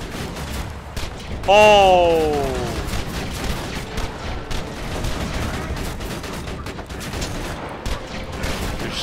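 Gunfire in the video game Borderlands 2, a burst of shots against robot mechs with a sharp loud onset that fades into continuous game noise, while a voice exclaims briefly.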